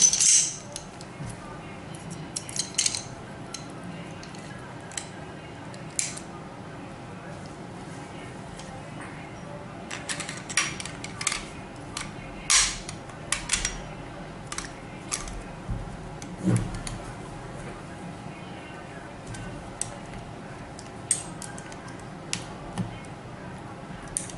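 Smith & Wesson 5906 pistol being reassembled after field stripping, with scattered small metallic clicks and clinks of slide and parts fitting together, close and fairly quiet against a low room background.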